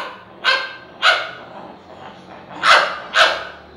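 A comic performer vocally imitates dogs scrapping over a bone, delivering four sharp bark-like yelps spaced roughly half a second to a second apart, loud and close with no speech between them.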